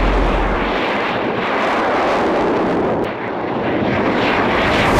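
An XCOR spacecraft takes off from a runway with a loud, continuous rocket roar, a broad rushing blast with wind buffeting that barely dips in the middle.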